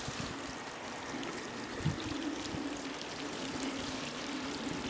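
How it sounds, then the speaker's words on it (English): Water spilling over the edges and down the corners of a large square reflection fountain, a steady close trickling and pouring wash that runs unbroken through the whole stretch with no voices. "I think you can see that water effect as it kind of rolls over those edges there and down on those corners"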